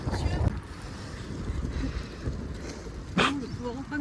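Gusts of wind rumble and buffet against the microphone, low and blustery, while a person talks underneath.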